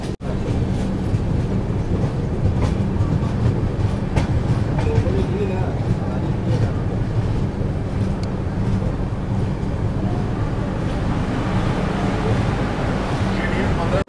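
The Patalkot Express runs on a double electric line, with a steady loud rumble and rattle of the wheels and scattered clicks throughout, and a voice occasionally speaking over the noise.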